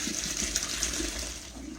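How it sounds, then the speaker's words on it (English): Boiled potatoes are poured from a pot into a colander in a home kitchen, with water splashing and draining in a steady, close rush and no pauses. "pour our potatoes up in our colander"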